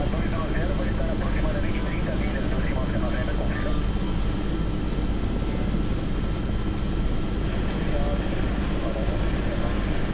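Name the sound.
Robinson R66 helicopter running before takeoff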